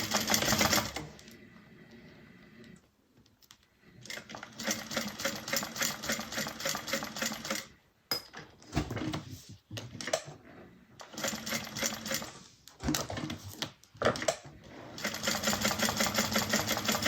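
Sewing machine running in several long stitching bursts along a strip of a handmade bag, loud and close, with brief pauses between runs and no talking.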